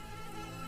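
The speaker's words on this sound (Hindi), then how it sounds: "ऊपर से ये मच्छर सोने नहीं दे रहे।" Mosquitoes buzz in a cartoon with a continuous, thin, high-pitched whine that stays faint and steady with no talking over it.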